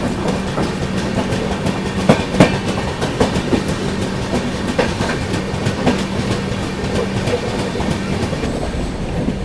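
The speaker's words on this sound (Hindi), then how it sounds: "ट्रेन अपनी पहुंच रही है सूरत रेलवे स्टेशन पर" The Pune AC Duronto Express rolls into Surat station, heard from on board as a steady rumble with rhythmic clickety-clack of wheels over rail joints and occasional louder knocks.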